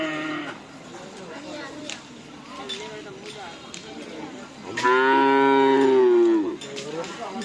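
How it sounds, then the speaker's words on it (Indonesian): Cattle at a karapan sapi bull race event moo, one long loud low bellow standing out near the end over background crowd chatter and voices. "ada sapi-sapi kecil ya."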